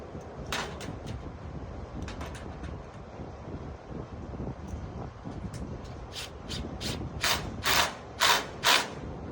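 An S-5 S-Lat clamp being installed on a metal roof at an outdoor rooftop demonstration: scraping and clicking mechanical sounds with wind noise, and several sharp metallic clacks growing louder toward the end.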